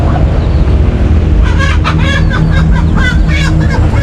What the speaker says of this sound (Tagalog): Dito natin pararamihin yung manok.